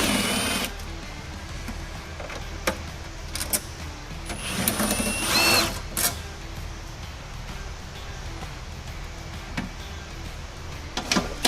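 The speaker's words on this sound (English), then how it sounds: "Take out the 4 bolts using 10mm socket." A 10mm socket wrench backs out bolts from a Shoreline HVAC box for a 1999 Kenworth W900L, with intermittent ratcheting clicks and metallic knocks spread over a quiet shop background.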